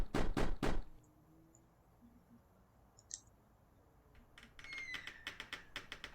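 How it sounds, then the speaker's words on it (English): Knocks on a door in a visual novel, three loud, close raps at the start, followed by quiet ambience with faint chimes and then a quicker series of lighter clicks and taps near the end. "I gently knocked on the door."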